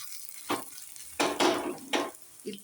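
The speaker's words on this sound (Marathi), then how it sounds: "इतका छान तडका झालाय" Hot oil tempering with asafoetida, whole red chilies and curry leaves for a moong dal dish, three or four sharp bursts of spitting sizzle and spoon scrapes separated by quieter gaps, close and moderately loud.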